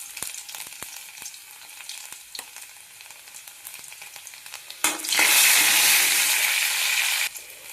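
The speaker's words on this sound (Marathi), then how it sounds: "असा आपला लसूण तळलेला आहे." Garlic fries in hot oil with a soft, crackly sizzle and scattered pops, then a sudden loud, bright surge of sizzling near the end that cuts off sharply, with no talking.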